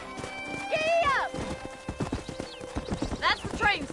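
Horse galloping in the video game Red Dead Redemption, rapid clip-clopping hoofbeats with a brief whinny, heard under a man's spoken lines.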